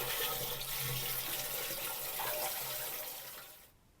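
Purchased water gushes steadily into an autoclave, a close, continuous splashing pour that runs strong for several seconds and then cuts off abruptly near the end, with no talking over it.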